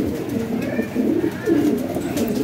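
Close, loud cooing from a champion racing pigeon, low rolling coos repeating in two or three swells with no talk over them.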